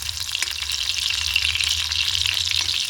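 Food frying in a pan until lightly browned gives a loud, dense, continuous sizzle that stays close and even throughout, with no voices.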